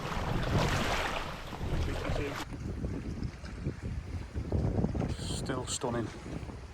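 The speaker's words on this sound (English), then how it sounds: "We've got the wind behind us again today" Wind gusting across a Scottish loch on a River Tay canoe trip, a broad rushing buffet on the microphone that swells and eases, with water splashing from the paddling and a brief spoken remark.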